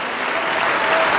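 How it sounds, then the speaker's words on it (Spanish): A church congregation applauds at a worship service, a dense, steady wash of clapping heard alone for a brief moment. "Fuertes aplausos a Él."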